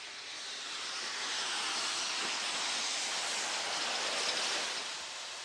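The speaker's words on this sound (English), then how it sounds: "Here the train approaches Leicester." A Stanier Pacific steam locomotive hauling a rail tour on the Great Central line near Leicester, approaching as a broad, steady steam hiss and rushing rumble that swells gradually and eases off again, with no voices.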